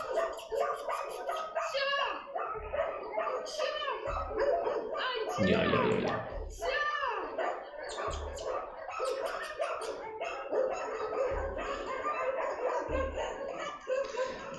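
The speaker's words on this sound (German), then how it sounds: "Die bellen alle" Many dogs barking and yipping at once in an echoing animal shelter, a constant noisy chorus near and far, with a person briefly speaking.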